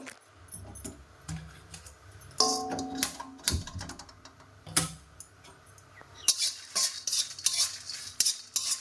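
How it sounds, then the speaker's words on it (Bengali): Dried chilies, cumin and whole mustard seeds are fried dry in a pan, heard as irregular metallic stirring clinks and scrapes with a light sizzle, close and intermittent. "শুকনো কলাতে লঙ্কা, জিরা আর গোটা সর্ষে ভেজে নেব"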